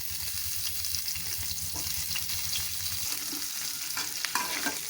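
Onions, green chillies and urad dal frying in a hot pan with peanuts, a steady close sizzle with a few stirring scrapes and clinks of a utensil.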